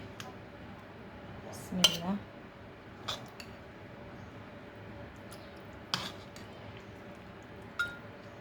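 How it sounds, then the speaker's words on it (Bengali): Curry being served from a pot into a bowl, with sharp intermittent clinks of cutlery against dishes spaced several seconds apart over a low background, with speech at times. "আমি এখানে একটা হাঁড়িতে সার্ভ করে নিচ্ছি"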